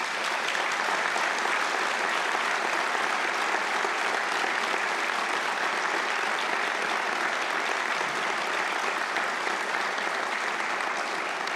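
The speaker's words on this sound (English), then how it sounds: "we give a round of applause to our graduates." A large audience applauds graduates at a University of Galway summer conferring ceremony, steady dense clapping that fills the hall without a break, with a faint voice or two underneath.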